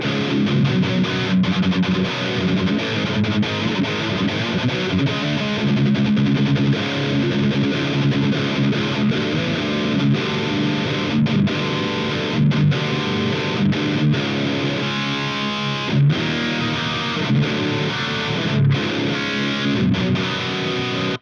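Electric guitar through an Amplitube 5 Mesa Triple Rectifier amp simulator plays continuously, a thick, saturated, effects-laden distorted tone sustaining chords and riffs at steady loudness throughout.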